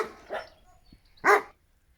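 Dogs bark in an English cottage garden beside willow trees and flag irises, two or three sharp nearby barks separated by short pauses, with no talking.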